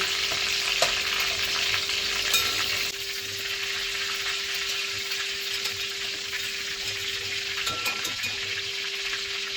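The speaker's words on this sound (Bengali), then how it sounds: "একবার তো ভাজা হয়ে গেল আবারও আমি চিকেনগুলোকে ভেজে নেব" Chicken pieces for chili chicken deep-frying in hot oil, a steady loud sizzle and crackle that runs unbroken throughout, easing slightly partway with a brief clatter near the end.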